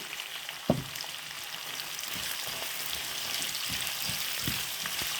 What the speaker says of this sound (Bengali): মশলাগুলো ভালো করে পেঁয়াজ দিয়ে ভেজে নিই